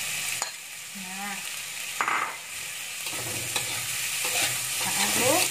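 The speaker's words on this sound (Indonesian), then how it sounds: "kita aduk rata." Anchovies and stink beans are stirred in a frying pan with repeated scraping strokes over a continuous sizzle. The sound is close and gets busier toward the end, with no talking.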